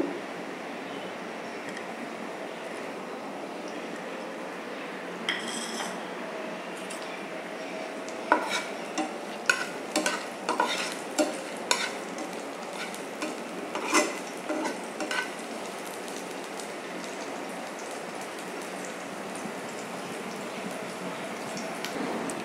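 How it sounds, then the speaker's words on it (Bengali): Onions frying in a pan for a lentil and bottle gourd dish, a steady low sizzle with intermittent stirring clatters and scrapes of a utensil against the pan in the middle stretch. "পেঁয়াজ ভাজাটা হয়ে গেছে।"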